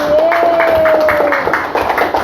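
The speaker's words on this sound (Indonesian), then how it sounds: "kita kasih tepuk tangan dulu untuk kelompok 1" A classroom group applauds a student team at the end of a lesson, a quick, even run of hand claps that holds steady for about two seconds, with a thin sustained tone running underneath.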